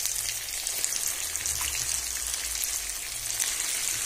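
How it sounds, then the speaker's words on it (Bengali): Chicken pieces frying in a kadai with spices and oil give off a steady, close, dense sizzle and crackle that holds evenly throughout with no talking. "এবারে চিকেনগুলো আমি সব দিয়ে দেবো কড়াইয়ের মধ্যে।"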